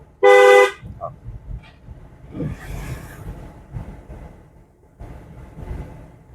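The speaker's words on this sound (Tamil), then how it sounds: "ஒரு தடவை ஹார்ன் அடிச்சிருங்க." One short, loud car horn honk during a driving lesson opens, followed by quiet road and engine noise with faint voices in the background.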